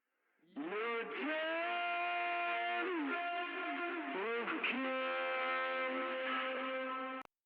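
A lone voice heavily processed with a warped, pitch-bending effect sings drawn-out notes, sounding metallic and echoey, then cuts off sharply.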